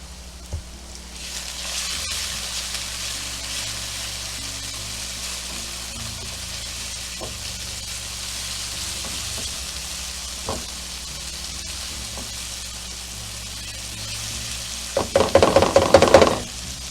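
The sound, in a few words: garlic sizzling in a pan for mushroom risotto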